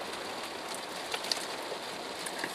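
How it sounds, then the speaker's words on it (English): Steady heavy rain pours down during a storm, a dense continuous hiss of drops on surfaces with a few sharper spatters, no voices. "now it's like terribly, terribly rainy"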